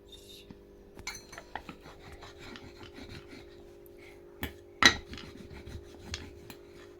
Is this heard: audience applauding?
no